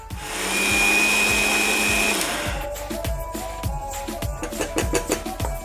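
A mixer grinder whirs loudly while grinding soaked lentils, urad and moth dal, for dahi vada batter. The motor runs steadily for about two seconds and then stops, followed by a string of close clicking taps.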